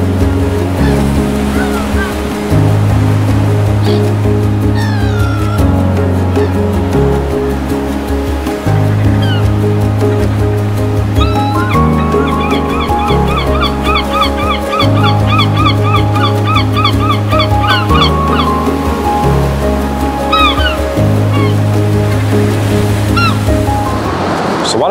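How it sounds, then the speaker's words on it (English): Ocean waves crash onto rocks below a cliffside viewpoint, a loud continuous roar of surf with repeated surges and hissing spray. "I have been watching these waves crash below me"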